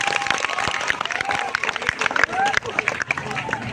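Applause from a puja gathering, a dense wash of clapping hands with crowd murmur, steady and fairly close for a few seconds after a call for a big round of clapping.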